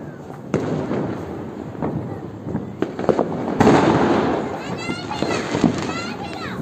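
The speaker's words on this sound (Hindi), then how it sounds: "और यहाँ पे सब लोग पटाखे फोड़ रहे हैं, जिसमें मेरे दोनों बच्चे भी हैं।" Firecrackers burst during Diwali celebrations near a family home's rooftop, giving sharp scattered pops and cracks over a steady crackling backdrop, with children and other people chattering and calling out throughout.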